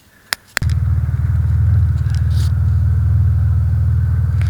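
A car engine idles steadily at close range with a deep, even rumble after a couple of brief clicks, while a blower motor fault is being repaired on a Pontiac Grand Prix.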